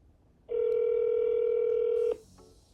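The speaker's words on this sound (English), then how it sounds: "So I'm going to go ahead and dial the number here." A telephone dialing out to a bike shop's AI voice assistant line: one loud, steady electronic tone holds for about a second and a half, then cuts off into quiet.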